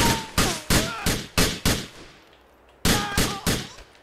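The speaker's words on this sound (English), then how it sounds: "This is the worst gun in the bloody world." Single gunshots from a weak handgun in Grand Theft Auto IV ring out in a steady series of about eight sharp reports, each with a short decaying tail, with a pause before the last three.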